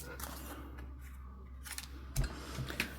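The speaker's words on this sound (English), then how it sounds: "I do have one pair of scissors set aside just for cutting stuff like this" Scissors snip craft foam laid on greaseproof paper, with a few quiet cuts and a couple of sharper closing clicks near the end, close and soft over a low hum.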